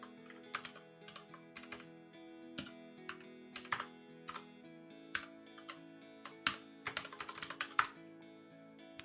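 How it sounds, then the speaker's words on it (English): Typing on a computer keyboard, with irregular bursts of key clicks and clacks at close range and no talking. "Typing is hard, right?"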